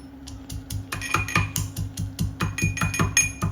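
Green chillies pounded into a paste by hand in a home kitchen, a steady series of sharp knocking strikes with a ringing metallic edge, roughly three or four beats a second, close and fairly loud with no talking.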